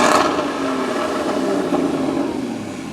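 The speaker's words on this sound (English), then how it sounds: "we're going to rev each car, see how loud they are." A Porsche Cayman GT4 sports car engine revs hard nearby, opening with a loud burst and then holding a high, buzzing roar for a couple of seconds before tapering slightly, with no voices present.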